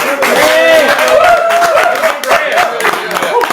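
An audience applauds football players at a Bradford Tornadoes season preview show, with loud, close clapping and cheering under someone speaking throughout.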